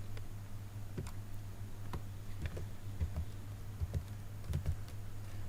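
Computer keyboard being typed on while entering a search for PyCharm, irregular light clicks and taps in small bursts over a low steady hum, close and alone.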